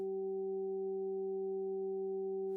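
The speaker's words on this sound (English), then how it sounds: "768 hertz. These are healing solfeggio frequencies." A steady 768 Hz solfeggio sine tone hums continuously and evenly alongside other pure tones, with no voices, ending in a short burst of hiss.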